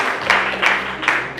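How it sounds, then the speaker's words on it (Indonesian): Brief scattered clapping from a classroom audience applauding a presenting student group, a few soft bursts of claps over a quiet background. "Kita beri tepuk tangan untuk kelompok"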